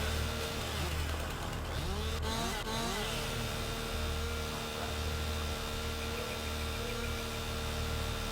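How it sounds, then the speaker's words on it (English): A chainsaw cuts limbs from trees in the logging game Farming Simulator 19, giving a steady buzzing engine drone with brief revving surges, constant and close over a mechanical hum. "Oh, this chainsaw sounds horrendous."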